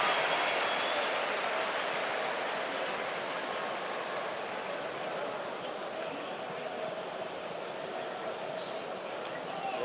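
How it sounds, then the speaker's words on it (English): Sunderland stadium crowd in a match against Cardiff City giving a broad, sustained cheer and applause for a substitution, a distant, even roar of many voices lasting throughout. "Big cheer for Wilson Isidore."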